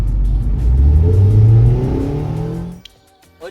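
A Mazda MX-5 convertible pulls away with its engine revving hard, a loud close growl climbing in pitch for over two seconds before cutting off abruptly, followed by quiet rustling.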